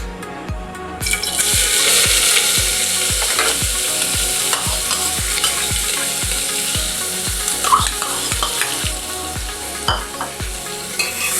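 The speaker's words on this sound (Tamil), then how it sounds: "இப்போ நம்ம ஆனியன்ஸ் போடலாம்." Onions fry in hot oil in a pan as a Tamil-style coconut milk mutton gravy gets started, with a steady loud sizzle under regular scraping stir strokes of a spoon against the pan, and no voices.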